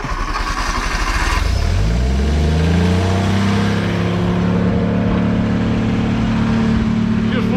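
A 1959 Edsel Ranger engine cranks, then catches and settles into a loud, close, steady run, running slightly flooded.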